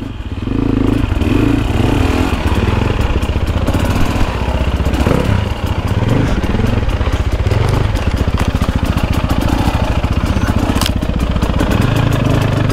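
Dirt bike engine ridden along an Arizona single-track trail by the Verde River, a loud, close, continuous throbbing roar with rapid rhythmic firing pulses and revving swells, no voices over it.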